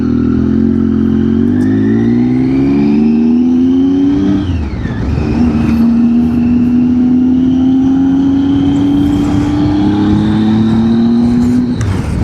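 A Triumph Tiger XCX motorcycle riding along a road, its loud close engine note climbing through the gears with a brief dip between shifts, then holding a steady drone under wind noise.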